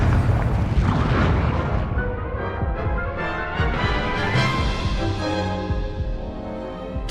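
A fiery Confringo explosion spell from the video game Hogwarts Legacy bursts with a loud booming blast, followed by a ringing, crackling magical tail that slowly fades.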